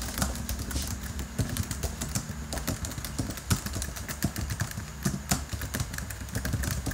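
Fingers type on the tactile keyboard of an MSI Katana GF66 gaming laptop, whose keys travel about 1.7 mm. The clicks are quick, irregular and close-miked, continuing steadily without speech.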